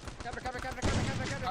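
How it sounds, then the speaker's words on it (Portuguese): A video game firearm, a Barrett sniper rifle, fires a single loud, booming shot partway through, over a background of speech and game sounds. "Um tiro, literalmente um tiro."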